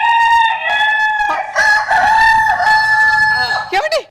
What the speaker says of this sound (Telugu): ఎక్కడ కోడి సౌండ్ అండి?